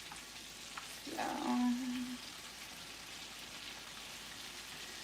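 Shrimp frying in hot oil in a deep fryer, a steady close sizzle and crackle throughout, with one short spoken word partway through.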